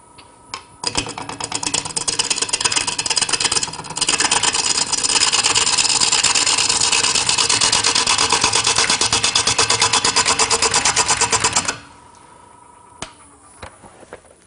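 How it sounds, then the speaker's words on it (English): Bowl gouge chattering against wood on a lathe, a loud, dense rapid rattle running steadily for about eleven seconds before cutting off, leaving faint workshop noise. "there was a lot of chatter and noise with that bowl gouge"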